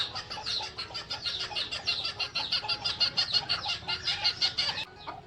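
Native Siruvidai country chickens at a poultry farm in Ariyalur, clucking continuously up close in a busy, pulsing chorus of overlapping calls, with no one talking.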